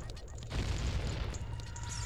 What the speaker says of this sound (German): Oh nein, der explodiert.